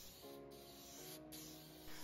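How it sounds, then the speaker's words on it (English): Short bursts of hissing spray from an aerosol can of shellac misting over wood filler patches on furniture, steady and close, with brief pauses between spritzes. "I am going to spray a quick spritz of shellac over the wood filler areas"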